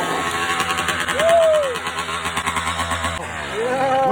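A motorcycle on its stock exhaust idles loudly up close, with short throttle blips rising and falling over a rough, steady engine rumble.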